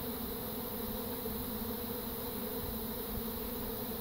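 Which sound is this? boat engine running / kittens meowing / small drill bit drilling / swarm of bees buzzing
swarm of bees buzzing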